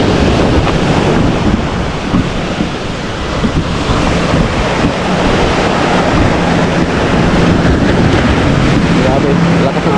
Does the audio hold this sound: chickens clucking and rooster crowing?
no